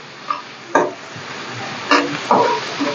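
Onions sautéing in a pan for Tamil egg rice, a soft sizzle broken by a few sharp stirring scrapes at close range.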